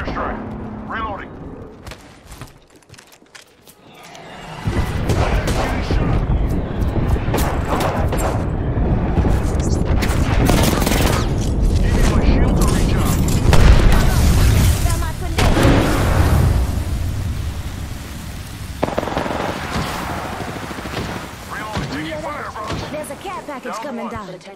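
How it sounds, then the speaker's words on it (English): Airstrike explosions pound in Apex Legends, a sustained roar of heavy blasts and rumbling impacts that swells after a quiet start and stays loud, with game voice lines over it. "Signaling an airstrike."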